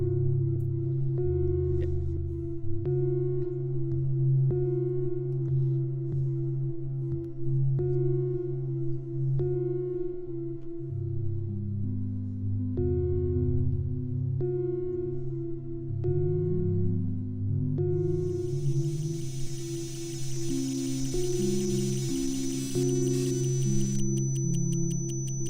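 Open source synthesizer firmware plays a long, busy stream of chirping electronic tones and sine-like notes that shift in pitch and rhythm. A bright, noisy wash joins in near the end, and nobody speaks.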